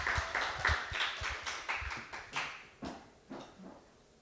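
Church congregation clapping in unison during a Sunday morning service, a brisk rhythmic series of sharp, close hand claps that fade slightly toward the end, with no talking.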